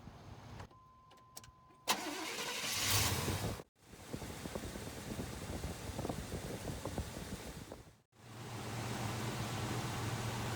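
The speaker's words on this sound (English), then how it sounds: "let's go ahead and get the truck started." A 1988 Chevy K5 Blazer with a 5.7L engine cranks briefly and starts after an oil change, then settles into a loud steady idle with broadband hiss, interrupted by two sharp dropouts.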